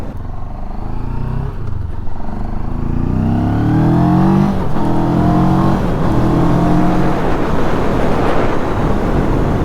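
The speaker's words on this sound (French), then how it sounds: "Le moteur, on a des bruits de boîte à air" Mash FR750 motorcycle engine accelerating loudly up through the revs, harmonics climbing over a steady rumble, with airbox intake and gearbox noise, recorded on board with no talk.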